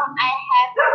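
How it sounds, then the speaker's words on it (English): A pet dog barks a few times in quick succession, close and fairly loud, in a short burst with yelping, whining tones, heard in the background of a casual conversation. "I hear your dog barking."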